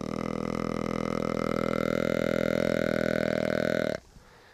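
A deer call imitates a mature buck's long breeding grunt. It is one steady, deep, throaty grunt that lasts about four seconds and then cuts off sharply into quiet.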